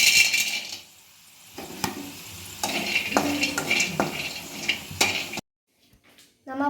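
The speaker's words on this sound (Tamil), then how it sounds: "அடுத்தது நம்ம பாதாமையும் ஏலக்காயும் 2 நிமிடம் வறுக்கலாம்." Almonds and cardamom dry roasting in a pan, with scraping stirs, rattling nuts and light clinks against the metal, close up, briefly dropping to near silence before stirring resumes.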